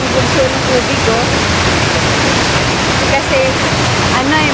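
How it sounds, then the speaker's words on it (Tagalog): Strong, loud rushing water at Beihølen Dam, swollen by melting mountain snow, roars as a steady, dense wall of noise throughout, close and unbroken, with faint voices barely audible beneath it. "Ito, malakas talaga ang bulso ng tubig"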